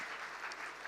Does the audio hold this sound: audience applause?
yes